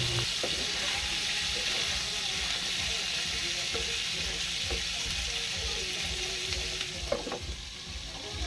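Pork pieces for humba frying and browning in a pan, with a steady, dense sizzle and occasional faint stirring clicks, close and loud throughout.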